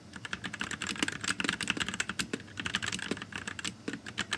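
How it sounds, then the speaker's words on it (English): Typing on a budget mechanical keyboard with no modifications, a dense run of clacky, rattling keystrokes heard up close and alone at a steady brisk pace. "But we're talking about the Quietest keyboard. Now, this is what it sounded like without any of the modifications we did today."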